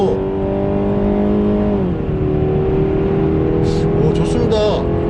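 A Renault Samsung SM6 with a 150-horsepower 2.0 gasoline engine accelerates hard in sport mode on a slightly slippery road. Its steady engine drone dips briefly at a gear change, and someone talks over it throughout.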